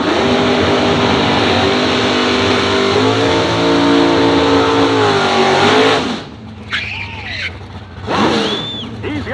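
A C10 pickup truck on a wheelstand run, its engine roaring loud and sustained for several seconds, then cutting back to idle bursts with brief revs; a voice talks faintly in the gaps.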